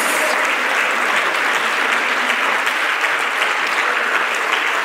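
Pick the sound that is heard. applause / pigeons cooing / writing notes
applause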